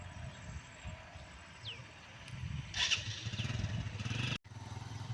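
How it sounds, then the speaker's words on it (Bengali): A motorcycle carrying a teacher rides away along a rural riverside path, its engine a low rumble that swells louder mid-clip before fading, heard alone without talk. "সেই টিচার চলে যাচ্ছে বাইকে করে"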